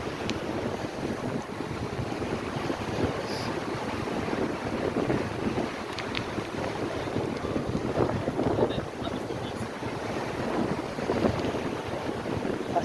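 Wind gusting at Fort Myers Beach, a steady broadband rush buffeting the microphone throughout, with surf and faint distant voices mixed in.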